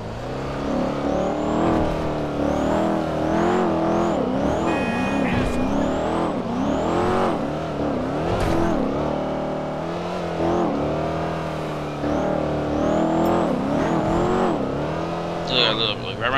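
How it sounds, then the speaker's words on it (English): A custom widebody C8 Corvette in GTA 5 revs and accelerates repeatedly, its engine note rising and falling through gear changes with a brief tire squeal, loud and continuous under voices talking. "We gotta drive this car off somewhere."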